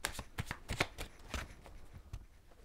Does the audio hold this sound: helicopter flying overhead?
no